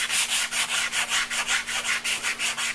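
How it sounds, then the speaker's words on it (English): Hand sanding along the top edges of a wooden bench: quick, even back-and-forth strokes of abrasive on wood, close and steady in a brisk rhythm, with no voices. "I'm going to sand it right now and let you see what I mean by sanding the top"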